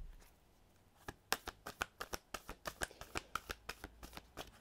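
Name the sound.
tarot cards being shuffled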